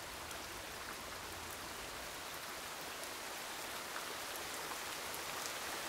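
Steady rain pours down without a break, a dense even hiss of drops striking surfaces close by, with no voices or other sounds over it.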